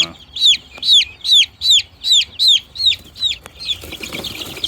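A chicken clucks in a steady series of about nine sharp, evenly spaced calls, close and loud, before trailing off into soft background rustle.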